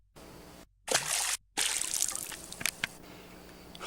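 A caught fish is released back into the water, giving a short splash and slosh followed by trickling, dripping water near the angler.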